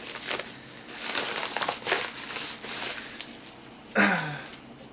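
A mail package is cut open with crinkling and rustling of its wrapping, then a sharper tearing slice near the end. The sound is close and moderately loud.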